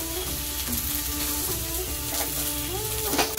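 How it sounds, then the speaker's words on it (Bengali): Fish sizzling and frying in hot oil in a home kitchen, a steady close crackle running throughout with faint clinks and stirring. "ভাজা বসিয়ে দিয়েছি, মাছ ভাজছি,"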